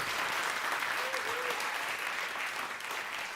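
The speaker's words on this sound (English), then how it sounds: "can we get a big round of applause for Michael Tiernan?" Church congregation applause for a musician, a steady wash of clapping at moderate distance, gradually tapering over a few seconds.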